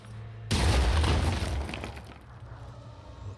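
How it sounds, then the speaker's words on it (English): A grenade detonates in the video game Phoenix Point with a sudden loud boom about half a second in, followed by a roaring blast that decays over the next second and leaves a low rumble. "Are you close enough to throw the grenade?"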